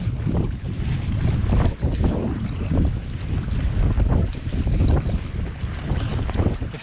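Strong headwind buffets the microphone while a canoe is paddled on a lake circuit, a loud, gusty roar with water lapping and sloshing beneath, steady and unbroken with no talk.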